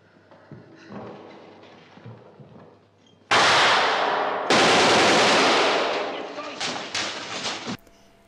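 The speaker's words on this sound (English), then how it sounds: "As the gunfire dies down" Distant crackling from 0 to 3 s, then loud, dense bursts of rapid battle gunfire, close and sustained, with sharp individual shots toward the end.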